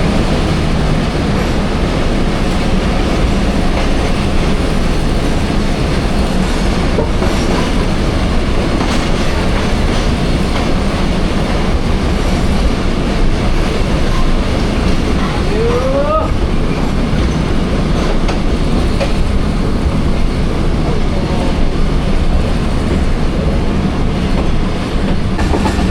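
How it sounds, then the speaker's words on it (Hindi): A train rolls slowly through Chaklala station without stopping, on a run from Rawalpindi to Lahore, producing a steady close rumble of wheels and carriages with a brief squeal partway through. "लाला से पास हो रही है ट्रेन, स्टॉप नहीं है यहाँ पे। स्लो स्पीड में पास करेगी चकलाला को।"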